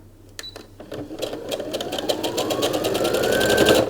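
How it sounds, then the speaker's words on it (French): A sewing machine runs a quick seam on the ends of a fabric tube for a braided Christmas wreath, its motor whine rising in pitch as rapid needle clatter speeds up, close and loud, no talking. "aux deux bouts de notre tube, avec une marge de couture de 6 mm, on va faire une couture rapide."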